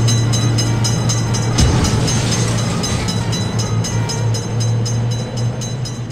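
In a railway crossing game, an Indian train passes with a dense steady roar, a sustained low hum and fast repeated rail clicks, loud and close throughout.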